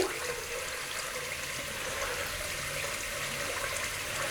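Tap water runs steadily to warm a dual comb safety razor, a constant close hiss of flowing water with no breaks.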